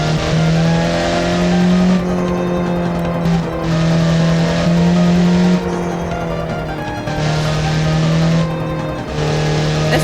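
An F1 car fitted with a 1.9 TDI diesel engine drives hard, a loud, close, continuous droning whine that shifts pitch in steps through gear changes with brief tire squeal, with no talking.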